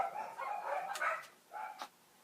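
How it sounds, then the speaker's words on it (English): Dogs bark outdoors some way off: a few faint, scattered barks and yips over a quiet background. "Oh, the dogs."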